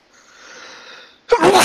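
A single sharp human sneeze bursts in loudly near the end, after a steady low hum of background sound from a Minecraft session.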